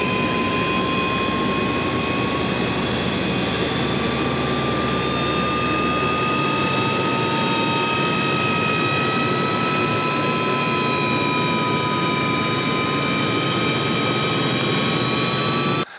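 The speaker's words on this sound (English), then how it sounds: "there is a really good engine sound" Loud, continuous turboprop engine drone from an FMA IA-58 Pucara in a flight simulator, high whining tones slowly shifting in pitch, steady and close throughout, then abruptly cut off.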